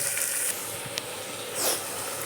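Onion, dried red chilli and garlic sizzling in a hot pan, a steady soft hiss with a brief brighter crackle midway and a swell of frying noise near the end, close and unaccompanied by talk.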